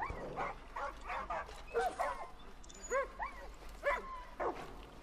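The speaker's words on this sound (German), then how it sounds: "Ja, cooler Hund." A dog in the video game Far Cry New Dawn yips and barks in a quick series of short, high, whiny calls, fairly faint over low background game ambience.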